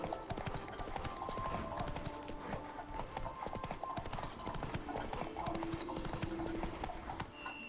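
A horse gallops in The Witcher 3, with steady, rhythmic clip-clop hoofbeats close by, game sounds layered behind them, and someone talking over the ride.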